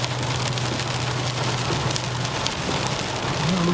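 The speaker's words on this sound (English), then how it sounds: "Rain hasn't lightened up much either." Steady, loud downpour of heavy rain in a micro-burst wind storm over flooded streets, a continuous dense hiss with a low rumble beneath and no voices.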